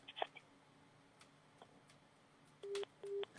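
Telephone tones from a phone on loudspeaker: a few brief clicks, then two steady electronic beeps in a row, clear and moderately loud against a quiet background, with no talking.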